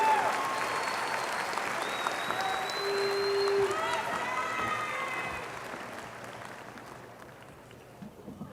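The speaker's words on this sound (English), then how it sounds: "Let's give our students a big round of applause as they return to their seats." A high school graduation crowd applauds students walking back to their seats. The clapping is dense and sustained, then thins and fades toward the end, with scattered voices and whistles mixed in.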